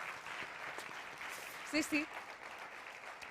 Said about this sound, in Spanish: un aplauso para la legendaria Sonia Fidalgo